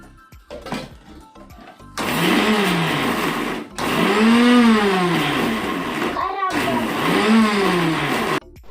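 Mixer grinder whirring in repeated short pulses while grinding soaked chana dal into a coarse paste, three loud bursts with brief pauses between them, rising and falling in pitch as the motor spins up and slows.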